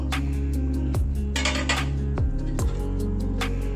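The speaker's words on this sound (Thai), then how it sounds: "เดี๋ยวเราก็ยังมาเปิดฝาดู" A lid is lifted off a pot of Thai braised pork ribs with bitter melon, with metallic clanks and scrapes of lid against pot over a steady low cooking hum.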